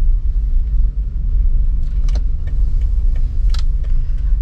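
A manual car in second gear on a downhill road, its engine rumbling steadily and close, with faint clicks and small rattles over the low drone.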